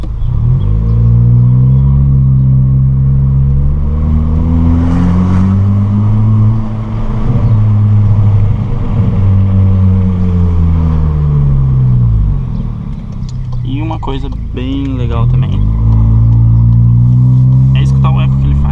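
A 2023 Volkswagen Polo GTS with a sport exhaust rumbles loudly in traffic, its deep drone rising and falling with the revs and echoing off nearby cars while someone talks over it.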